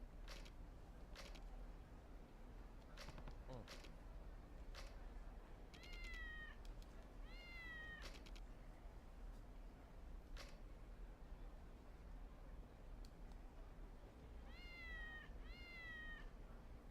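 Cats meow in the Kurohyou video game, short repeated rising cries in small bursts over quiet clicks and a soft background hum, with no talk.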